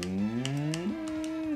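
A person imitating a cow, producing a sustained, loud, voiced moo that slides upward and then holds a higher pitch before trailing off, delivered alone and close.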